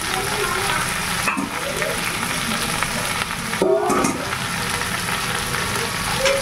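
Ground spices with garlic, onion and chillies fry in a pan for a fish curry, giving a steady moderate sizzle with a couple of brief spatula scrapes and knocks, no one speaking.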